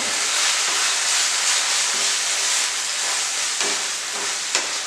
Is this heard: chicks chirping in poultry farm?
no